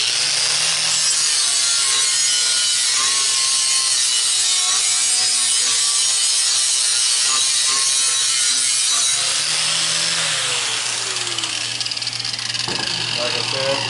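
Flap disc on a grinder sanding epoxy off a metal tumbler, a loud, steady abrasive grinding with a whining motor tone that runs continuously close up.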